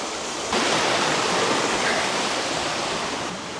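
Steady broadband rush of creek water flowing close by in a canyon, growing louder after a moment as if stepping nearer, with no voices.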